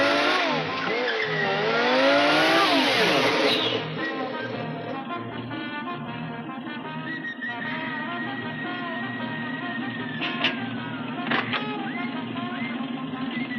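A car's engine revving hard and whining, its differential faulty, loud at first and then settling into a steady idling drone with a few sharp clanks near the end.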